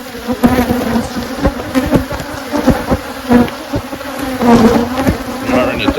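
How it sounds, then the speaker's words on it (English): Honeybees buzzing loudly and steadily at a hive during a dearth, one week after Formic Pro mite treatment, a dense close-up drone with individual bees zipping past. "The bees are ticked off."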